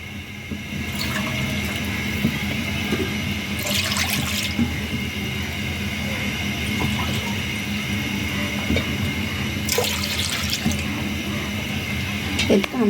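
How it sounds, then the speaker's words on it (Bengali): Three cups of liquid milk pour into a pan for semolina pudding, giving a steady liquid rush over constant kitchen hum with a couple of brief louder splashy surges. "আমি পুডিং রেডি করার জন্য দিয়ে দিচ্ছি তরল দুধ 3 কাপ"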